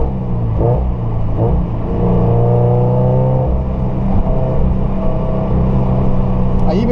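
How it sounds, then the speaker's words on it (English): Scion FR-S engine with equal length headers and an aftermarket exhaust, revved repeatedly by throttle blips, a loud, close, throaty rumble with rising and falling pitch sweeps over a steady idle. "I can play with the throttle to make different sound,"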